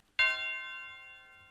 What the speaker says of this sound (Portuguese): Depois coloquei um sino.